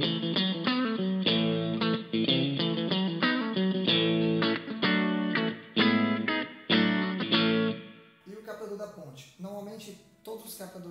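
An electric guitar played on its middle and then bridge pickups pours out heavily distorted, rhythmically strummed chords, loud and close, before shifting to brighter, sparser picked notes near the end.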